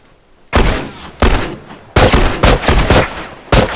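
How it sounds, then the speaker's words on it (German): Gunfire from the video game The Last of Us: several loud, sharp shots in an uneven burst, some spaced apart and others in quick pairs, with no talk. "Das waren jetzt wirklich gut gezielte Schüsse."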